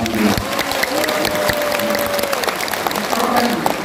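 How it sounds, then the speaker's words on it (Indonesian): A large crowd at a religious gathering applauds the organizing committee, dense loud clapping with a faint tone and voices running underneath. "Tepuk tangan untuk panitia."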